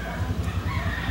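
A rooster crows in a rural yard, a steady, strained call that fills the short moment over faint background noise, with no voices.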